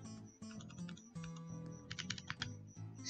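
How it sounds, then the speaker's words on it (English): Rapid keystrokes on a computer keyboard as a command is typed on Windows 10, a steady run of close clicks over a low background hum, no talking. "So we will type"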